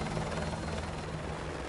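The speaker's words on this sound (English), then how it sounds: "I'm going on a chopper." Steady helicopter rotor and engine drone in the Call of Duty: Modern Warfare 2 campaign remastered, a continuous loud wash with no talk over it.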